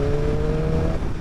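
A BMW S1000RR inline-four sports bike engine holds a steady rev around 4,500 rpm in third gear, a loud, close, continuous tone with a fixed pitch that stays level for the whole moment.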